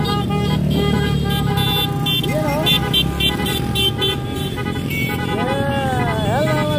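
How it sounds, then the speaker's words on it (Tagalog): Car horns honk repeatedly through steady engine and traffic noise during a motorcade for a gas station grand opening in Umingan, Pangasinan, with people talking and calling out over it. "Busina."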